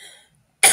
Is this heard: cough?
yes